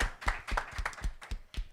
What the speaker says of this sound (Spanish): Fuerte aplauso, Monoter.